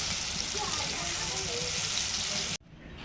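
Bangda mackerel frying in a pan gives a dense, even sizzle close up that carries on for a few seconds and then cuts off sharply, leaving a faint hiss.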